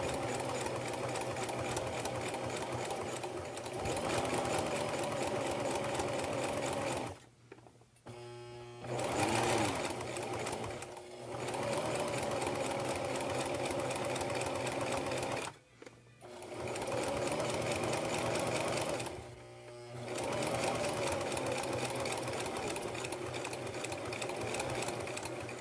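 A sewing machine stitches a quilted soup bowl hot pad with a fast, steady mechanical whir in close, repeated runs, broken by brief pauses.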